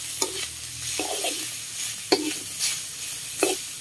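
Beef frying and stirred in its own rendered fat for a Thai stir-fry with pea eggplant, steady close sizzle broken by several scraping stirs of the spatula at irregular intervals.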